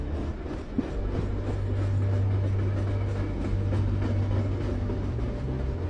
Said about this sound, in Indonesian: Emang kereta bisa melaju sampai sedalam ini ya?